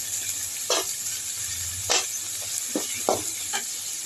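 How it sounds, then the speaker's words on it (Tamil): Vegetables, including eggplant, frying in tempered oil in a pan for kadamba sambar, giving a steady close sizzle broken by a few sharp scraping stirs of a spoon. "நம்ம இப்படி ஃபஸ்ட்டே தாளிச்சிட்டு வறுக்கணும்னா எண்ணெய் கொஞ்சம் கம்மியாகும்"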